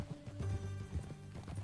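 Horse hooves clip-clop in Red Dead Redemption 2, a steady mid-distance rhythm of hoofbeats with low rumbling tones beneath, continuing through the whole moment without speech.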